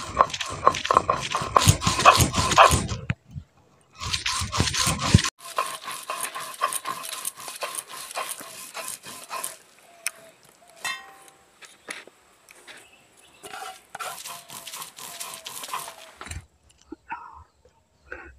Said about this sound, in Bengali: এবার এই নারকেল কুড়োটা এখন বেটে নেব।